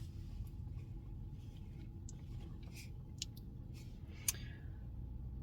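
Inside a car, a low steady rumble fills the cabin while faint clicks and small handling noises pop up now and then, with no talking.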